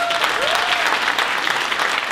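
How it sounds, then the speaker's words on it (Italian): Audience applause at a school theatre performance, a steady dense burst of clapping from a hall full of people, fairly loud and continuous. "un applauso a lei"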